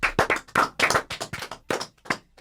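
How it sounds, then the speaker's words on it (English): A short burst of hand clapping breaks out during a comedy show, a handful of sharp, close claps in an uneven rhythm that trail off within a couple of seconds. "That's the first applause break we've had on this show"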